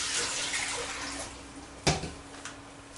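One liter of water poured for kimchi porridge, a steady splashing rush with a sharper splash near the end, then a brief lighter splash, close and moderately loud.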